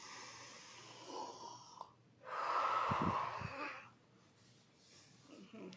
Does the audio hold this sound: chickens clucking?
no